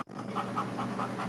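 A dog pants rapidly and close by, with quick rhythmic breaths repeating steadily across a short moment.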